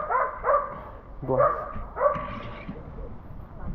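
Several dogs being led by professional dog walkers on a countryside footpath give short, close yaps and barks in bursts, with a brief whimper, while people chat over and around them.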